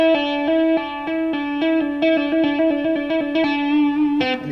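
Rapid tapped notes on an electric guitar through distortion, bright repeating pitches in a quick even rhythm, played alone with no talk.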